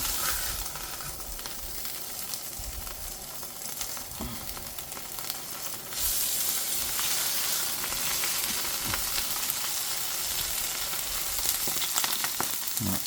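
Salmon fillets laid skin side down in hot oil sizzle steadily and close up, a continuous crackling hiss that swells louder partway through and keeps going without talk.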